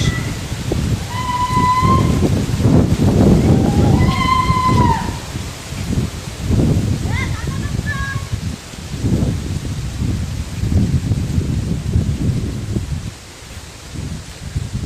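Strong wind buffets the microphone while someone walks along a road, producing a loud, continuous low roar and rumble with gusting swells and a few faint whistling tones in the first half.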